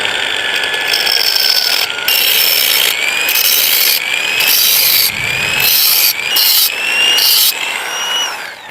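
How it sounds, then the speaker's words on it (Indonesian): An angle grinder cuts a snap ring groove into a broken steel car axle, giving a loud, close, high whining grind whose pitch rises and falls in repeated passes, broken by brief gaps between cuts. "ini kita buatkan coakan buat snap ring atau pengunci. Kita gerinda sesuai garis."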